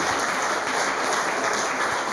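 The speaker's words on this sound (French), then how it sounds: "Merci encore Julien, je crois qu'on peut t'applaudir." Applause from an audience at an award ceremony for entrepreneurs, a brief steady wash of many hands clapping, moderately loud and even from start to end.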